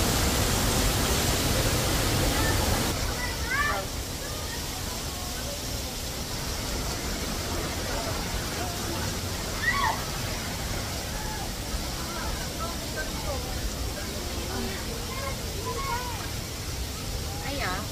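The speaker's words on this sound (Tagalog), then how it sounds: "So ito yung unang waterfall." A waterfall at Barangay Laurel in Santa Maria, Laguna pours out a steady, dense roar of rushing water that runs the whole time, a little louder at first, with a few faint chirps over it.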